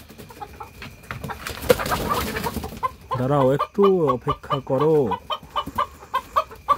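Chickens cluck while being fed cabbage, their calls coming in short, close bursts in the middle of the clip, with a person talking before and after them.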